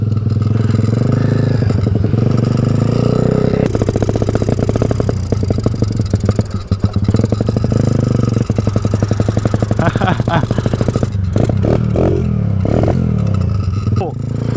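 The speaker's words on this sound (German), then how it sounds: "Verrückter fährt mit einer fahrenden Bierkiste." A motorized, driveable beer crate runs loud and close, its small engine buzzing and revving steadily while loose parts rattle and clatter throughout.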